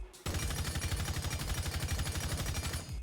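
M762 rifle with no muzzle attachment firing full-auto in Rainbow Six Siege, a loud sustained burst of evenly spaced rapid shots lasting nearly three seconds after a brief quiet start.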